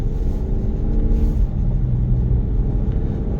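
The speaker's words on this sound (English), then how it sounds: "Just listen to the exhaust." A Lexus GX550 OverTrail+ drives through a U-turn with a steady low exhaust drone and road rumble heard from inside the cabin, continuous and moderately loud, with no talking.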